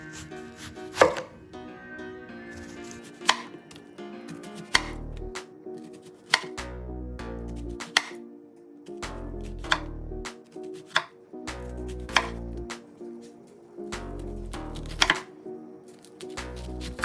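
A knife chops fresh sage leaves on a board in steady bursts of quick, close strokes, repeated many times over soft background music with no talk.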